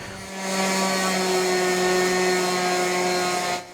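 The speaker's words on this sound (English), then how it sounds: "I was trying everything possible to get it where I wouldn't have to keep sanding, but I had to keep sanding." A power sander whines steadily and loudly against an old workbench, a continuous tonal motor drone with a rough abrasive hiss that holds for a few seconds before cutting off.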